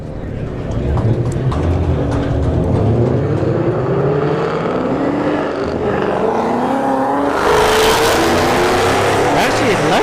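A Shelby GT500 and an S197 Mustang drag race at Bradenton Motorsports Park, with loud, continuous engine roar and rising revving tones sweeping upward as the cars accelerate, a steady crowd-and-track din underneath.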